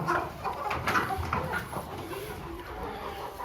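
Backyard native country chickens and Aseel fowl kept as parent stock cluck and call in their coop, several soft vocalizations overlapping at close range over a low ambient background, without speech.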